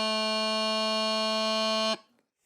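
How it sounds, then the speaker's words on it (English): A bagpipe practice chanter sounds a single sustained low A, bright and reedy, held steadily for about two seconds before cutting off abruptly, with no voices. "So low A should sound like this."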